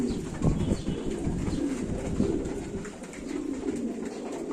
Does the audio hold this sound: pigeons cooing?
yes